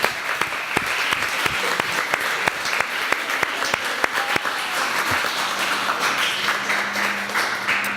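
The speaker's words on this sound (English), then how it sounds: "one final round of applause for all the award winners" An audience at a Model UN closing ceremony applauds award winners steadily for several seconds, a dense wash of clapping with a few sharp, distinct claps standing out near the start.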